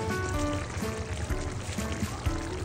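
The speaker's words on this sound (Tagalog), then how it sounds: "bubusan ko naman ito ng tubig at tatakpan hanggang sa kumulo" Water pours steadily into a pot of fried chicken being cooked, a continuous close trickling stream under light kitchen clatter, with no voices.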